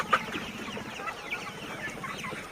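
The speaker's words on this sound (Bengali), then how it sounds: "মুরগি দেখেন আপনারা, সব মুরগি সুপার মুরগি হয়েছে" Sonali hybrid chickens, about 50 days old, cluck close by in a busy, overlapping chatter, with one sharper squawk near the start.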